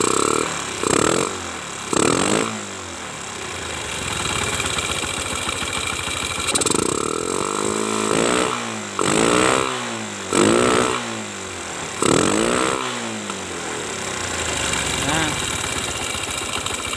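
A Yamaha Jupiter MX motorcycle engine runs steadily and rises in bursts as the throttle is opened, with someone talking over it in the foreground throughout.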